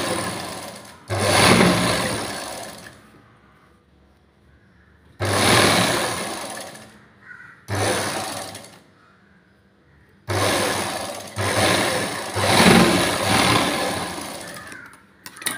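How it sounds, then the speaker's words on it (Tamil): A sewing machine stitches the neckline of a garment, running in four loud, close bursts of a few seconds each, separated by quiet pauses while the fabric is repositioned. "ஃபுல்லாக நம்ம கழுத்து தைச்சிட்டோம்"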